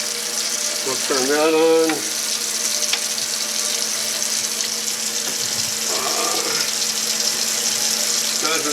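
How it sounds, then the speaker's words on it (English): A kitchen sink faucet and its sprayer run in a Florida home, a steady close hiss of water flowing throughout, with someone speaking briefly over it near the start. "So we'll start running some water."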